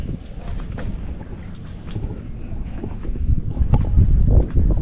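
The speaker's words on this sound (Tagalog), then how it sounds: "Sarap ng hangin dito." Strong wind buffets and rumbles across the microphone while a boat moves over the sea near Balicasag Island, Bohol, growing louder toward the end.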